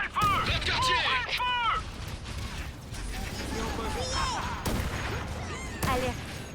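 Gunfire crackles in the video game Halo: Campaign Evolved: rapid bursts and mechanical weapon clatter mixed with chirping energy shots and battle noise, with voices underneath.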